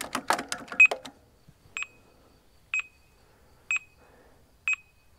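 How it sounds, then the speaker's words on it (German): A car alarm system gives short electronic beeps, about four of them, evenly spaced roughly a second apart after a brief rustle of handling noise, each beep crisp and close. "Und jetzt piept's einmal."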